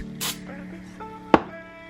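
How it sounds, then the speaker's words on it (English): A single short hiss of silicone spray applied to the end of a PTFE hose during fitting assembly, a brief close burst standing out against quiet background hum. "I'm going to just spray the end of this with a little bit of silicone spray."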